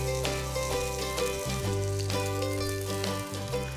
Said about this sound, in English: High heat to sear it off and to cook the barramundi